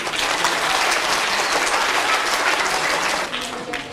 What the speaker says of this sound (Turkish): Şöyle kendinizi güçlü bir alkışlayın bakalım.